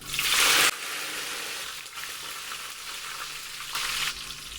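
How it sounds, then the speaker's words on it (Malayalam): Curry leaves and dried red chillies hit hot coconut oil after mustard seeds have popped, giving a loud hissing burst at first, then a steady, quieter sizzle with another brief flare near the end. "കടുക് പൊട്ടി വരുമ്പോൾ കറിവേപ്പിലയും വറ്റൽമുളകും ചേർത്ത് കൊടുക്കാം."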